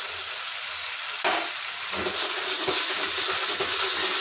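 Chopped green beans go into a hot pan for a malai paneer sabzi. A sudden burst of sizzling follows, then steady loud frying and crackling that continues throughout.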